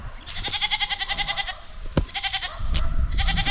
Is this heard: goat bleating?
yes